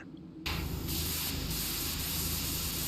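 A pressure washer in the video game PowerWash Simulator bursts on after a short pause and sprays continuously, a loud steady hissing jet with no talking.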